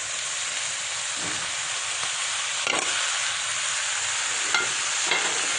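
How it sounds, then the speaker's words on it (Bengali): Pasta tipped into a pan of vegetables keeps up a loud, continuous sizzle and hiss, broken by a few brief clatters of stirring. "এই যে পাস্তা দিয়ে দিতেছি"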